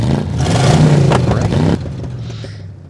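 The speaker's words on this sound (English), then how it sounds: "you can actually hear the engine noises, even if you can't smell gasoline" A car's engine noise, produced by an engine noisemaker, gives a loud, close rumbling drone with some clatter that cuts to a quieter, lower hum partway through.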